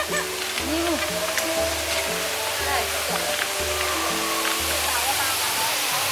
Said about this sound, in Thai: เข้าไปดูน้ำตกกันหน่อย